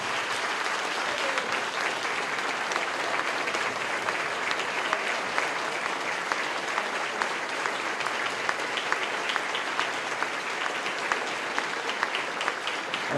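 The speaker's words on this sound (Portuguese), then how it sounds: "Antônio Milton Martins Bolano, uma salva de palmas." Audience applause at a Graciosa Country Club event: dense, steady clapping from a large crowd that runs the whole time without pause or talk.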